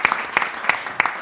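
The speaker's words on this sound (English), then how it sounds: "A big round of applause for" Hand claps ring out at an interfaith dialogue event at NSW Parliament, a few sharp, evenly spaced claps standing out over a thin room background rather than a full dense ovation.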